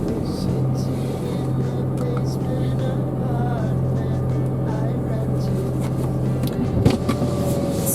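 A car drives off, its engine a steady, loud rumble throughout, with a voice talking over it.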